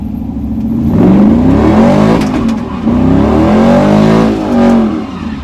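A car with a Gen V L83 engine swap and open differential doing donuts, its engine loud and close, revving in sustained rising and falling waves with tire noise, and nobody talking.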